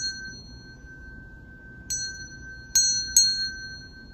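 Small ritual bell rung while circling during a witchy ritual, three bright clear dings spaced apart with ringing tails over a steady faint hum, no talking.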